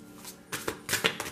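Thick oracle card deck being shuffled, a few quick riffling bursts with soft papery slaps, close and fairly quiet, no talking.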